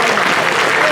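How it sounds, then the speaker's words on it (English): An audience at a Diwali cultural program in Panama City, Florida bursts into dense, loud applause, a brief continuous wash of many hands clapping close by. "please give a big applause to the team here"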